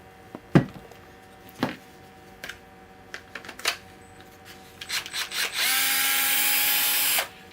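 Scattered clicks and handling knocks, then a Milwaukee M12 Fuel brushless cordless right-angle drill whirs steadily and slowly for about a second and a half, close by, before stopping.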